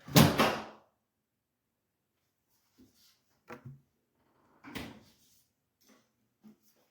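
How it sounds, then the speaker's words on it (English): A door bangs shut loudly and close by, knocked closed by something falling onto it, followed by a few faint knocks and rustles. "my door just closed because the shit just fell on it"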